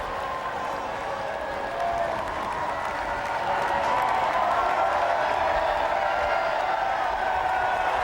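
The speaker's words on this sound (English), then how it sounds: "a big crowd surging across Whitehall to his car" A big crowd surging across Whitehall toward a car outside Downing Street, police holding them back, during the 1997 General Election: sustained loud applause and cheering with whoops, swelling midway and staying dense throughout.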